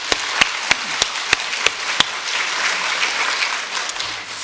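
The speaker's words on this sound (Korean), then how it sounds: "뜨거운 박수 한번 해줘" A church congregation during a Sunday worship service applauds the choir, opening with a few loud, evenly spaced claps that blend into a sustained wash of clapping across the room.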